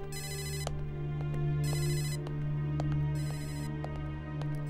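A telephone rings with a repeating electronic ringtone in short bursts separated by pauses. It sounds fairly quiet indoors, with occasional faint clicks and no voices.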